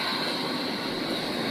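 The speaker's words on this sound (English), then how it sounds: "Next, let's test the air blower. Turn on this switch." The air blower on a fully automatic French fries production line runs with a steady loud roar and rushing air, unbroken throughout, with no talking.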